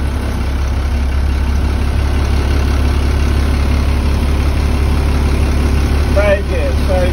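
A school bus engine idles and rumbles steadily after being shifted into drive, a loud, constant low drone close by, with brief voices near the end.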